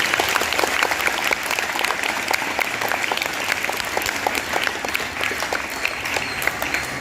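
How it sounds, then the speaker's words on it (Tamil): Steady, dense applause fills a school ceremony, a crowd clapping continuously at even loudness throughout. "சிறப்பான கரகோஷம் மூலமாக ஒரு வரவேற்பை தெரிவித்துள்ளது."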